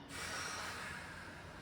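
One sharp, close breath drawn in through the nose during an isometric strengthening yoga exercise, a loud airy intake held steady for about a second and a half.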